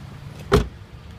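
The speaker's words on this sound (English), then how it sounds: "Jack, can you open up the back real quick?" Rear hatch of a 2013 Mitsubishi being opened: a single short latch clunk and release, close by, over quiet background noise with no voices.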